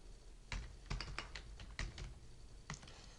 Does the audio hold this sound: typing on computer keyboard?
yes